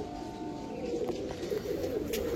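Hand-raised homing pigeons, one ringed and bound for a race to Diamond Harbour, coo softly and steadily in a low murmur, with a few faint chirps and light clatter near the end.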